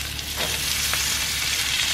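Potato pieces frying in a pan for Igado Ilocano, a dense, even sizzle with a couple of faint stirring scrapes, close and loud throughout, no voices.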